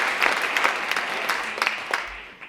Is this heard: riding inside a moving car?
no